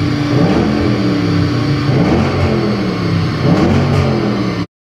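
A car engine screams at redline, held loud and near for several seconds with rising and falling rev sweeps before cutting off abruptly.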